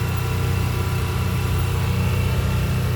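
A Farmall tractor engine idles at a tractor show, a continuous near, loud low-pitched chug with a regular pulsing rhythm and no voices over it.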